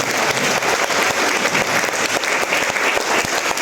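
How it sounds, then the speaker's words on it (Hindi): Loud, dense audience applause from a large gathering, many hands clapping in a continuous, even roar throughout. "उनके लिए जोरदार तालियां होनी चाहिए साथियों"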